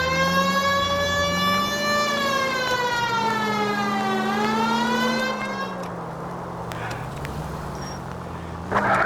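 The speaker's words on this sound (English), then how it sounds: "Why don't you use the siren?" A police car siren in the video game L.A. Noire wails, rising and falling loudly for several seconds over a steady engine hum, then cuts out, leaving rumbling traffic noise.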